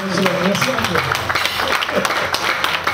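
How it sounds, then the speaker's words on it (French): Dense audience applause fills an evening church gathering for pastoral couples, steady and close throughout, with a voice speaking over the clapping. "On applaudit."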